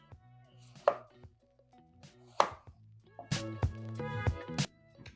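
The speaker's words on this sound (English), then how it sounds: "We're going to cut up into decently sized chunks." A knife cuts potatoes into chunks for French fries. Two separate sharp chops on a board are followed by a quicker burst of several close, crisp cuts, with no talking.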